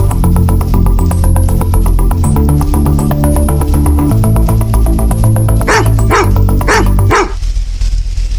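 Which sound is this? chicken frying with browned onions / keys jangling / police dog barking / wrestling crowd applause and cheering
police dog barking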